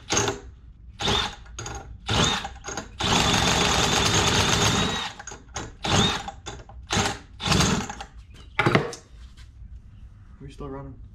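A two-stroke engine run on diesel fuel sputters in short rough bursts, catching once for a sustained ragged run before faltering again, close by, with someone talking between attempts.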